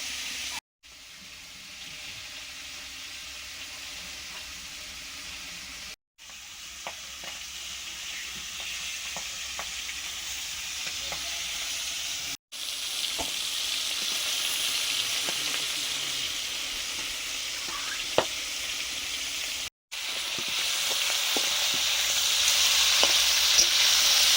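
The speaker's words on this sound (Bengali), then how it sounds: "বোয়াল মাছের পিসগুলো ভাজা হয়ে গেছে" Pieces of boal fish fry in hot oil, giving a steady, close, broadband sizzle that runs for about 24 seconds. Faint stirring scrapes sit under it, with a few brief silent breaks and no talking.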